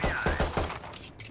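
Spectre submachine gun firing in the tactical shooter game Valorant, a quick burst of about five rapid, evenly spaced shots over a steady backdrop of game ambience.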